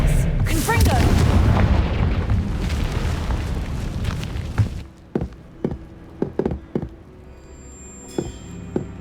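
A Confringo spell explosion in Hogwarts Legacy: a loud roaring blast that rumbles and fades over several seconds, followed by a series of sharp knocking impacts, with a voice speaking over the opening.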